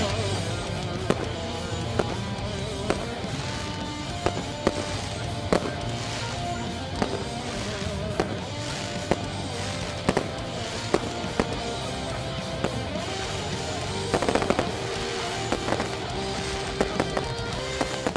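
Fireworks crackle and pop continuously at a speedway race featuring modified sedans, with sharp bangs scattered throughout, all layered over a dense, loud roar of racing engines and the crowd.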